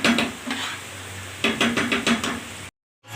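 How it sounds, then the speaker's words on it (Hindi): Chicken pieces for mash daal gosht cook in a pan, with bursts of scraping and clattering from stirring against the metal, a steady sizzle underneath, and a short silent gap near the end. "बस हम इसके फ्राई होने का वेट करेंगे और फिर इसको दाल में मिक्स अप कर देंगे।"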